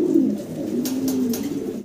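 A male Modena pigeon coos in one close, low throaty phrase lasting under two seconds, with a few faint soft taps over it.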